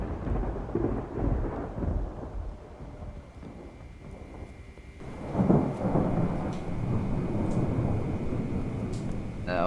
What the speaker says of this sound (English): I'm gonna have to turn down the sound for the storm a bit, aren't I?